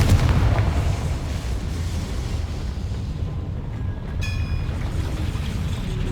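Confringo blasting spell from the game Hogwarts Legacy, a deep rumbling explosion with heavy low boom that rolls on and sustains, followed by a brighter ringing crackle of debris near the end.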